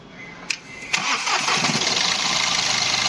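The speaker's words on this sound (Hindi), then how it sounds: "अब हम स्टार्ट करके देखेंगे इसको, इसका साउंड वगैरह कैसा है।" A Mahindra TUV300 SUV engine, just overhauled, cranks briefly, catches after about a second, and settles into a steady, fairly loud idle heard up close.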